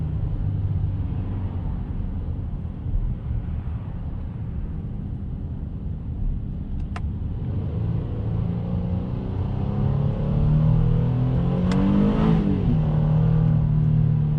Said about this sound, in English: It takes a long time to upshift, but I'll tell you this thing sounds really good.